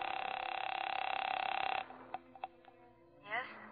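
A telephone in a hotel room sounds a steady dial tone, which cuts off into a few sharp dialing clicks and then a brief ringing tone, heard clearly and close.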